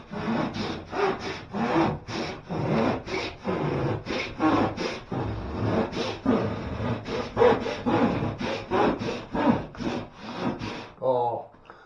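A hand saw cuts through wood while a conservatory roof with a bow window is being fitted, about two dozen quick rhythmic rasping strokes up close, ending with a brief scrape.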